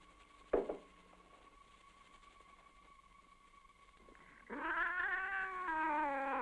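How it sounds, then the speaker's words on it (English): A cat meows once with a long, drawn-out wailing cry near the end, after a quiet stretch with a single knock-like thump. "She's a cat."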